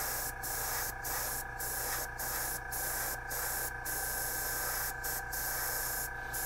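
An airbrush spraying paint onto a Battletech miniature gives a steady, faint hiss, broken by regular short pauses as the spray is cut between passes.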